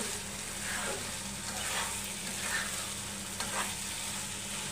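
Cumin powder stirred into a sizzling pan of dried fish (lotia shutki) and potato curry, a low continuous frying hiss with soft periodic scrapes of the spoon, steady and fairly quiet throughout.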